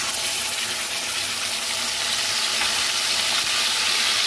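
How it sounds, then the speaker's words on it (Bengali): Cumin tempering and sour yogurt fry in a hot pan for a Bengali niramish aloo dum, giving a steady, dense sizzle that runs close and unbroken from start to finish, with no talking. "দিয়ে আমি এবার টক দইটা দিয়ে দেবো"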